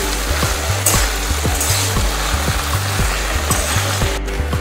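Okra frying in a covered pan is stirred in a steady rhythm of repeated scrapes and clatters over a constant loud sizzle, with no one speaking.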